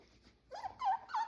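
A squirming puppy being held firmly gives a few short, rising whimpers and whines, close and fairly soft, in quick succession with brief pauses between them.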